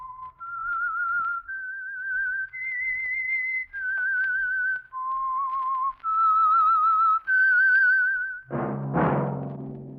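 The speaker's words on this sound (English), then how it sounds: "That whistle is your signal for the Signal Oil Program" A melodic whistled tune of sustained, wavering notes stepping up and down, ending with a brief burst of brassy music, from the 1947 radio drama The Whistler.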